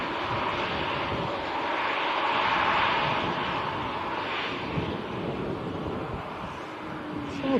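A KLM Airbus A321neo departing Manchester Airport for Amsterdam gives a steady, distant roaring rumble that swells slightly and then holds as a broad, windy drone with no voices.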